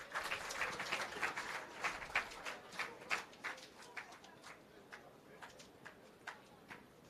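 Outdoor audience applause for Mr. Dunkley at the launch of the Pedro Plains irrigation expansion project, a faint, distant patter of scattered hand claps that thins out toward the end.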